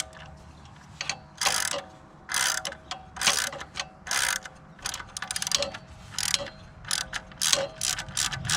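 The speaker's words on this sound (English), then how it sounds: "now that we got our wrench back there, we can go ahead and take that off" Hand wrench ratcheting on exhaust bolts of a Triumph Street Triple 765 motorcycle, close-up bursts of rapid clicking in repeated short strokes with brief pauses between them.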